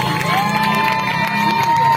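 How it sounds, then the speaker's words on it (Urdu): A crowd at an on-stage prize giving for an Umrah ticket winner claps and cheers loudly and steadily with scattered shouts, a brief burst heard alone. "ان کے لیے بھرپور تالیاں بجا دیجیے"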